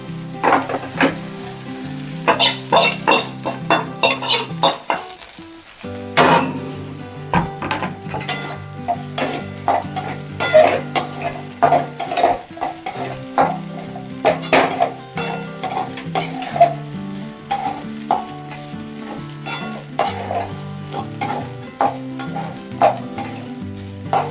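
Fried green chillies stirred into poha in a pan make loud, repeated scraping and clinking strokes over a continuous frying sizzle, with no talking.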